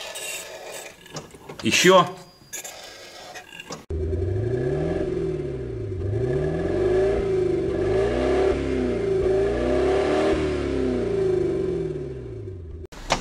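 A brief spoken word comes first, then an Audi engine fitted with a VAZ 21041 carburetor starts abruptly and runs loud and close, with repeated rising and falling revs.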